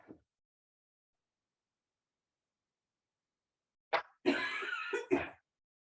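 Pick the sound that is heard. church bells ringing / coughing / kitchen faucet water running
coughing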